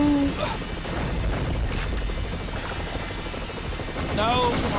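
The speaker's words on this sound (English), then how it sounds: "helicopters behind me" A pursuing helicopter in the PlayStation game 007: The World Is Not Enough, a steady rotor roar filling the background under game effects and occasional chirps.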